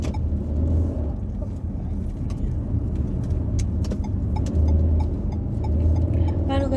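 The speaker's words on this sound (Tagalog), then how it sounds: "Tapos traffic pa din." Steady road traffic in Riyadh heard from inside a moving car: continuous low engine and tyre rumble with passing vehicles, loud and unbroken, while people talk faintly in the car.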